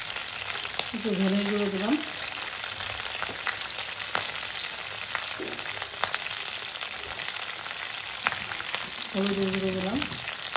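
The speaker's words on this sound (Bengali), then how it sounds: "বাটাটাকে একটু কষে নেব যাতে ওর কাঁচা গন্ধটা না থাকে।" Spice paste for chickpea dal fries in a pan with a steady, close sizzle and crackle, stirring scrapes throughout, while a person speaks briefly at the start and end.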